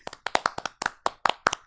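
Hand claps in a quick uneven rhythm, about a dozen sharp, close and fairly loud slaps in under two seconds, with no voices.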